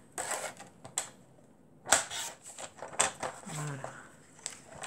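Paper being cut with crisp snips and slicing strokes while making an art book, a few sharp cuts spaced across the moment, close and moderately loud, with faint background noise and no talk.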